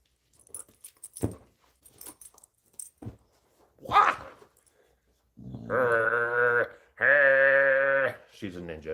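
A dog in play makes long, drawn-out whining, bleat-like vocal cries near the end, preceded by scattered clicks, taps and a brief rustle.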